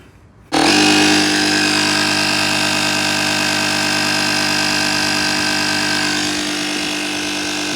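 A Stanley Fatmax jump starter's built-in air compressor switches on to inflate a car tire, snapping into a loud, steady mechanical hum and drone that runs on without a break.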